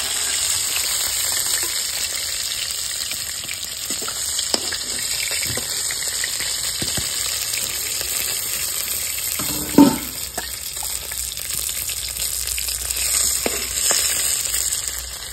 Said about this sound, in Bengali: বন্ধুরা মাছ ভাজা হয়ে গেছে, তুলে নেবো।